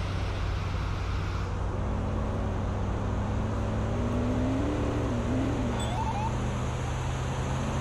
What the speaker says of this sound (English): his car is absurdly loud